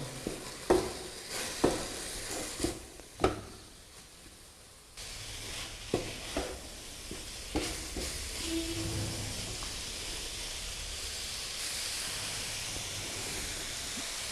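Coriander powder, red chili and spices frying in a pot for matar keema give a soft continuous sizzle, with stirring clatter and scrapes from a spoon scattered through the first half.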